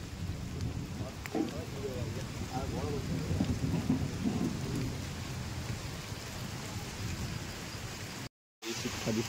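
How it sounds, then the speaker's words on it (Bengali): Steady rain pours over a village pond, with rolling thunder rumbling through the downpour and voices talking over it; the sound breaks off briefly near the end. "এই যে দেখো বৃষ্টি"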